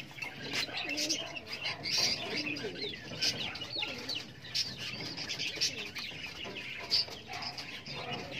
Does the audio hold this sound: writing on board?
no